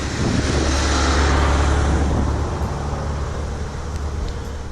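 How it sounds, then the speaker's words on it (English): A tour bus drives past on a street in Sitka, Alaska, its engine rumble and tire noise loud and close at first, then gradually fading as it moves away. "Tour bus."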